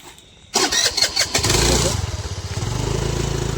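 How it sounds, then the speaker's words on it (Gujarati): A Honda Activa scooter engine cranks with a few sputtering bursts, catches, and settles into a steady, close, loud idle. "તું એક્ટિવા બંધ કર"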